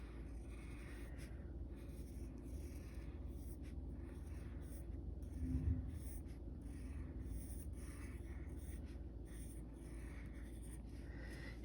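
A marker lettering the name Blaze onto an acrylic ornament gives a faint, steady scratching glide with soft strokes and small pauses, close and quiet against a low hum.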